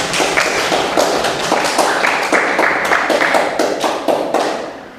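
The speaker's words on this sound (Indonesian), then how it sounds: "sekali lagi tepuk tangan untuk kita semuanya" A school class claps together as an audience, a fast dense patter of many hands going on steadily for several seconds before tapering at the end.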